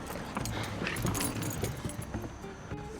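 Car keys for an Infiniti M45 jangle and clink in quick bursts close up, fairly quiet, with no talking.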